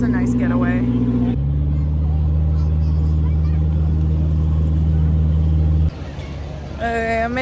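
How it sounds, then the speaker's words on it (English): Steady low motor drone of a Disneyland raft boat crossing the water to an island, loud and continuous with a voice talking over it and a brief shift in the engine note near the end. "it looks like the raft is coming back now"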